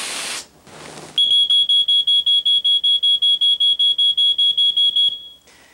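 A hiss of aerosol smoke-detector tester spray, then a smoke alarm blares in rapid, piercing pulsed beeps for several seconds before cutting off.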